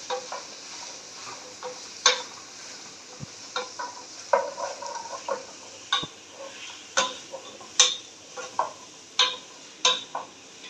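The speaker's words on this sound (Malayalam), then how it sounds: "ഇനി നല്ല രീതിയിൽ ഇളക്കി കൊടുക്കാവേ." Chilli chicken being stirred in a pan, a series of sharp spoon clacks and scrapes against the metal at an uneven pace over a soft sizzle, nearby and with no voices.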